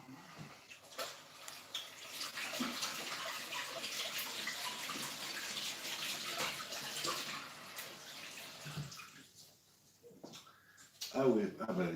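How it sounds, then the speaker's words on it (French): A tap runs steadily as hands are rinsed under it, a fairly quiet continuous water hiss that drops away near the end, followed by a few splashes and small kitchen sounds. "je vais aller me rincer les mains"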